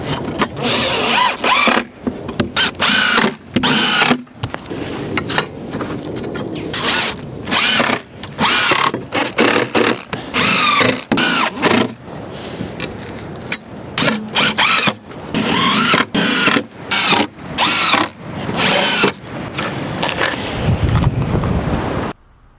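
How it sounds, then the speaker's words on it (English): Power driver sinking screws through flattened metal brackets into wooden raised garden bed boards, loud close bursts of whirring in short repeated runs with brief pauses between, wind blowing across the microphone throughout. "we're gonna screw them right on here to hold these 2 boards together"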